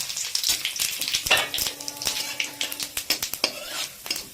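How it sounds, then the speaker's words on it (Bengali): Whole spices, including cumin, bay leaf and dried chili, hit hot oil in a pan for chicken kasa, crackling and popping in quick irregular bursts over a close sizzle, with a few utensil clinks. "দিয়ে দিচ্ছি গোটা ফোড়ন, জিরে, তেজপাতা, শুকনো লঙ্কা।"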